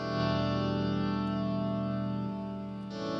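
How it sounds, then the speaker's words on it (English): Electric guitar chords in a rock arrangement smeared by heavy reverb into a sustained pad, a continuous shimmering wash with a chord change near the end and no gaps. "There's no silence because the reverb is like making it sound like one pad sound."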